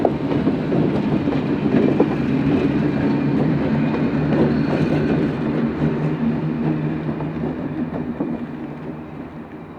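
Reading and Northern F-unit diesel locomotives pulling a train away from Port Clinton, a steady, loud low rumble of engines with rolling wheel and car noise throughout, no talk.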